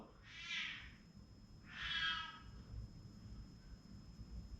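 A house cat meows twice, close by, in two drawn-out calls about a second and a half apart over a quiet indoor background.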